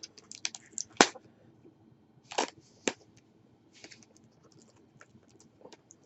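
A heavily taped cardboard shipping package is torn open by hand, giving a few sharp, close rips and crackles separated by quiet pauses of fiddling.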